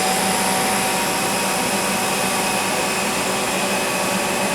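Hydraulic system of a Doosan PUMA 2600 CNC lathe running, a steady, loud, broadband whir and hum with no break, heard up close and alone.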